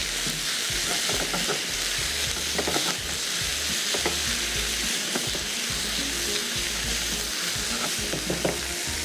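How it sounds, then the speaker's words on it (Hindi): Chicken fries with spices in a pan, giving a dense, steady sizzle close up, broken by scattered scrapes and clanks of stirring throughout, with no one talking. "इसका खूब अच्छे से तकरीबन 1 मिनट तक आपने मसालों के साथ चिकन को भून लेना है।"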